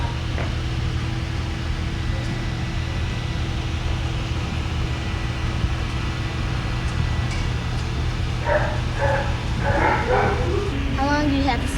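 Dogs bark and yip in a veterinary kennel room, several short bursts near the end heard over a steady mechanical hum, with people talking through much of it.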